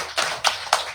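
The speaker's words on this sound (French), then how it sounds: "On applaudit" Brief bursts of clapping from a crowd at a political party gathering, three short loud swells of hand claps close by, with no voices over them.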